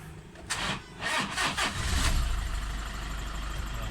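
Toyota Innova engine cranking in several bursts before catching and settling into a steady low idle, recorded close by with no talk.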